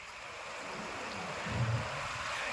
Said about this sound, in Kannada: ಒಂದು ಸುಂದರವಾದ ನದಿ ಶುಭ್ರವಾದ ನದಿ ಹರಿತಾ ಇದೆ